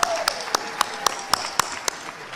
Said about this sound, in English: Let's give her a round of applause to Teta Maritza.